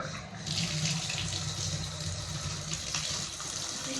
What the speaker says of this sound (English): let me turn the water back on